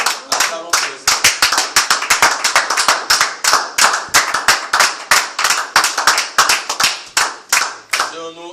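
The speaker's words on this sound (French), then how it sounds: "Acclamons pour le Seigneur." A church congregation claps in steady, rapid unison, dozens of sharp claps in a driving rhythm, loud and close. The clapping stops near the end, where a brief voice is heard.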